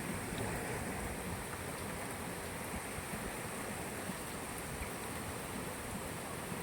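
Heavy rain falls in Bangalore as a steady, dense, unbroken hiss, loud and close, with no voices over it.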